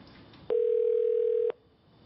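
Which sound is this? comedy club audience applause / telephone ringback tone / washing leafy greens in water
telephone ringback tone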